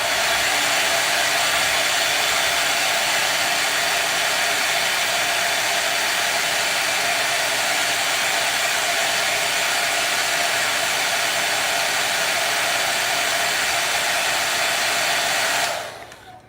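A hair dryer blows steadily on wet brown paint during a painting class, a loud, continuous airy roar that holds evenly for about sixteen seconds before cutting off abruptly at the end.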